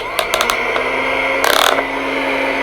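Fisher-Price Laugh & Learn toy vacuum cleaner dial clicking, a few sharp plastic clicks followed by a quick ratcheting burst, close and moderately loud over a steady electronic hum.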